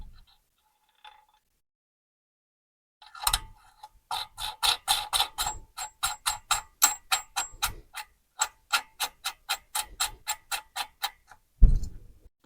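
Steady run of sharp metallic clicks from a wrench or ratchet tightening a jam nut while setting valve lash on a cheap generator engine, close and fairly loud, a quick rhythmic series broken by brief pauses, with a heavier clunk near the end.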